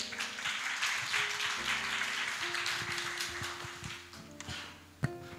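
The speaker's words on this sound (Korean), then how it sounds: "큰 박수로 맞이해 주세요." Applause from an audience at a regional startup ecosystem summit in Daejeon, steady broad clapping lasting several seconds at moderate volume beneath a background music tune, ending with a sharp final knock.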